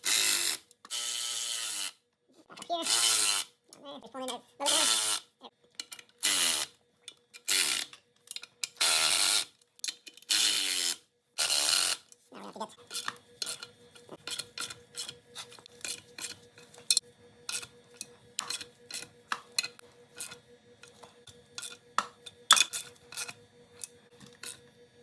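A ratchet clicks in short bursts as it tightens clutch pressure plate bolts on a turbo Cavalier, crisscrossing between bolts; early strokes come loud and spaced, then a run of fainter rapid clicks follows, close up with no talk.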